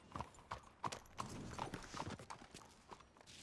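A horse in the video game Red Dead Redemption 2 gives a quick run of crisp, evenly spaced hoof clip-clops, fairly close and fading slightly toward the end.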